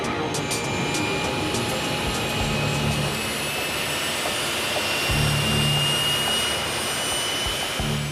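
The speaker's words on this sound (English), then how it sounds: "But then acceleration down the runway is sluggish." An Emirates jet airliner roars steadily as it accelerates down the runway at Melbourne's Tullamarine airport on a night takeoff, a loud, sustained engine rumble with high whining tones and no talking.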